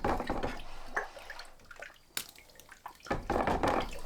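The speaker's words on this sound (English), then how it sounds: "we rinse it off in water" A blued steel hatchet head being rinsed in water, with splashing and dripping sounds that come in uneven bursts, fading quietly midway, then returning with a sharp splash and a louder final stretch of sloshing.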